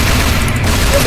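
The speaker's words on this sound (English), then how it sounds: "That's like a machine gun right there." Rapid gunfire from a machine gun in a video game, a loud, dense, continuous burst filling the whole short moment.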